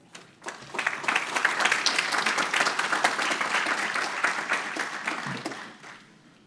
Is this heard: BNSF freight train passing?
no